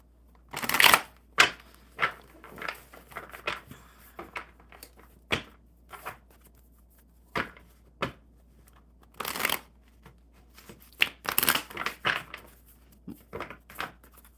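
Playing cards shuffled by hand during a casual card game, a series of crisp riffling and tapping bursts at irregular intervals, close and fairly quiet.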